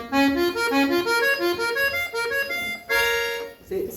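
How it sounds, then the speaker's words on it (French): An accordion played in its oboe register gives a nasal, mid-range reedy tone, with a sustained melody of held notes at steady volume and a brief louder chord near the end. "Le son du hautbois, c'est un peu plus médium."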